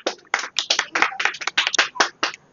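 A small group of children claps during a first-aid quiz session. About a dozen sharp, close hand claps come in a quick, uneven burst over a couple of seconds, fairly loud, with no talking.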